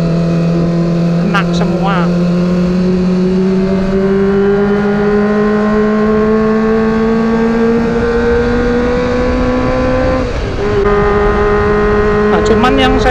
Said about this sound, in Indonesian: mau dengerin suara merdunya 4 silinder, intinya motor ini dapet lah